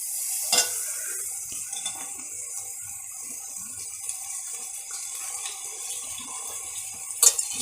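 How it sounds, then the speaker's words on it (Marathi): Chopped onion greens sizzle and fry in a pan as a spoon stirs them, with soft scraping clinks against the metal, the frying hiss steady and fairly quiet throughout. "हां, तर यामध्ये मी आता भाजी टाकून घेते."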